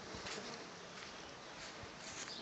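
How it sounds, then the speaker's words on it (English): Native stingless bees from North Queensland swarm around a hive, filling the air with a dense, steady buzzing that stays close and constant throughout, with no voices. "There's just heaps of bees."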